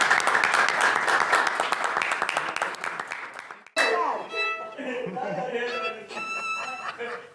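Brief applause for a music teacher at a music workshop interview, a dense burst of clapping that stops abruptly midway, followed by scattered voices, chatter and light laughter.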